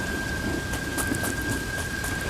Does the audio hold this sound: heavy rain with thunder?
yes